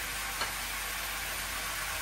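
Vegetables such as pumpkin, radish and potato fry in a pan with turmeric and chili, giving a steady, hissing sizzle with a faint tick near the start, close and continuous without any talking.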